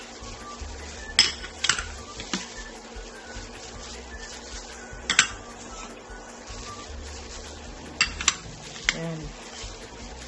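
A spoon scrapes and clinks through a bowl as onion, carrot and seasoning are mixed into lumpia shanghai filling, scattered knocks over a quiet background, with brief speech.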